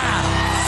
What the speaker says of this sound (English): I need you to scream for your new beginning.